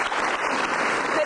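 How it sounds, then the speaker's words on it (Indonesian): A studio audience at an Indonesian television talk show breaks into a brief burst of dense, even applause. "kita harus kasih tepuk tangan."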